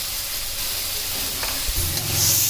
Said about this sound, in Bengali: এবার টমেটো কুচি, মরিচ, পেঁয়াজ, লবণ সব একসঙ্গে করে নেড়ে দিব।